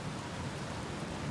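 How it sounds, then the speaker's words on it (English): Rain falls in the video game Outer Wilds, a steady, even hiss of downpour with no gaps, alone and moderately loud. "It's a good thing I never get bored of rain, huh?"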